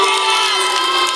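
A high school basketball crowd at a boys varsity game in Sequim boos a foul call, a loud, steady, dense mass of voices filling the gym throughout.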